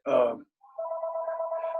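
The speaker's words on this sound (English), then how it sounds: "my phone rings." A phone rings during an online Zoom talk, a steady electronic warble pulsing evenly and fairly quietly after a short burst of a voice.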